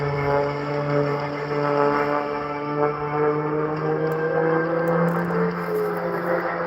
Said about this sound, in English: The airplane goes around and around and around.